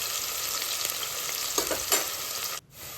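Chopped onions frying in hot oil for egg biryani, a dense, even sizzle heard up close with faint stirring taps, cutting off abruptly near the end.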